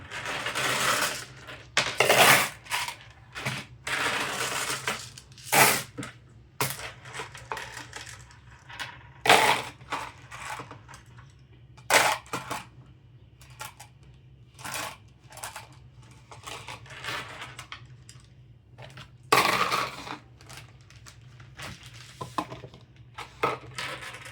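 Pieces of 9mm glass are sorted by shade, giving sharp, close clinks and rattling taps in irregular bursts with quiet gaps between.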